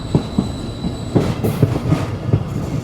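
A Mongla commuter train rolls into Mohammadnagar railway station in Khulna, heard from on board, with a steady rumble under loud, regular clickety-clack wheel beats and a brief squeal of wheels on the rails.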